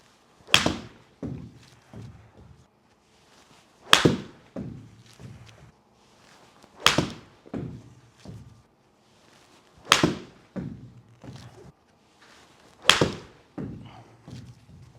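Pitching wedge shots strike TaylorMade Speedsoft golf balls outdoors: five crisp, sharp impacts at roughly three-second intervals, each followed by a couple of softer thuds, with near silence between.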